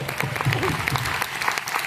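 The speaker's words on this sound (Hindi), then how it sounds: "एक बार जोरदार ताली उनके लिए" Loud audience applause at an Indian networking gathering, a close, full burst of clapping that carries through without a break, with voices faintly mixed in.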